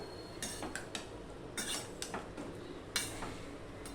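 A spoon scrapes and clinks against a pan as pui saak and fish head are stirred, giving a few irregular metallic knocks and scrapes close up over a quiet background.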